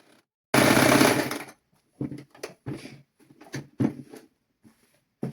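A sewing machine stitches children's clothing fabric in one loud, steady burst of about a second, followed by quiet scattered clicks and handling sounds.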